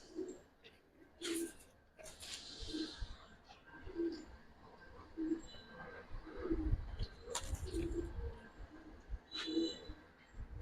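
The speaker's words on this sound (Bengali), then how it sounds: "দুই পেয়ার সিলভার কবুতর দেখাম এখন একসাথে" Silver pigeons cooing in a repeated series of soft, low coos, close by, with some rustling and handling noise in between.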